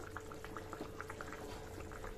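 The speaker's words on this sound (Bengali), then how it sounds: "এই যে এখানে ঝোলটা ফুটে গেছে" Fish curry gravy with potatoes boils in a pot, a faint, continuous bubbling with soft pops and gurgles close by.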